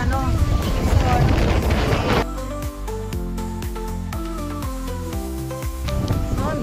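Strong wind buffets a microphone outdoors at a geopark in Taiwan, loud rumbling gusts filling the first two seconds before easing into a steadier background as a person talks.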